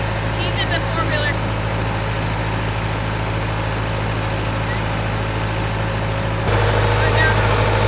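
A four-wheeler ATV engine idles on a ranch, a steady low drone that keeps running throughout and grows slightly louder near the end, with faint voices briefly at the start and end.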